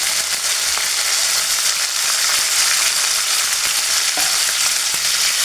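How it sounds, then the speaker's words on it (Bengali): Paneer fries in a hot pan with a loud, steady, unbroken sizzle close by, with a few small pops. "প্রথমে আমি পনিরটাকে ভাজবো।"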